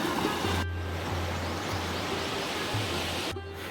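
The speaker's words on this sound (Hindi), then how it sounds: "पर ये पानी की धार इतनी तेज़ है," A strong, fast-flowing river current on the Narmada parikrama route, a dense roaring wash of water that fills the whole clip, steady and close, with a low hum running beneath it.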